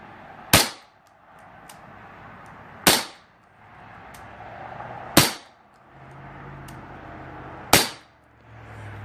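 Four sharp, separate cracks of a Daisy Powerline 415 BB gun firing at a target, spaced a couple of seconds apart, each a brief snap over a quiet, faintly hissy background.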